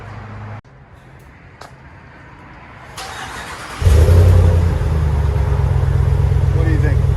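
A 2020 Dodge Ram with a 5.7L engine and dual exhaust through a Flowmaster Super 10 muffler and 3.5-inch tips fires up, its deep low rumble rising loud and then settling into a steady, throaty idle.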